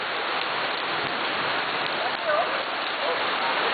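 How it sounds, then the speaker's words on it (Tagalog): Steady, dense rainfall in Jeddah, Saudi Arabia, a constant close hiss of rain with no breaks and faint voices underneath. "Naulan po sa Saudi kay mga kaibigan."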